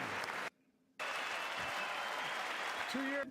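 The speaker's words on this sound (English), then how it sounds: "fast forward through fucking the cheering" A crowd at the State of the Union address applauds and cheers in a dense, steady roar that cuts out for a moment near the start and then resumes, with a voice talking over it.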